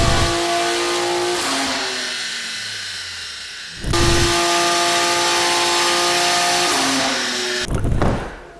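A modified BMW S58 engine with altered exhaust, in a car on a dyno and in limp mode, revs loudly in sustained high-pitched pulls that hold, drop off briefly, then surge again and cut out near the end.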